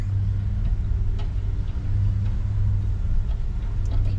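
A small truck rolls slowly through a parking garage, a steady low engine rumble and road drone holding at an even, fairly loud level.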